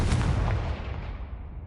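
A Confringo blasting spell erupts in Hogwarts Legacy with one heavy, booming explosion that hits hard at the start and then rolls away into a fading rumble.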